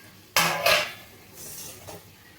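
Fried prawns are tipped into a pot of boiled pointed gourd and potato, giving two sharp metal clatters close together, then a softer scrape and a brief faint knock.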